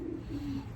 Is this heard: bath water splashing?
no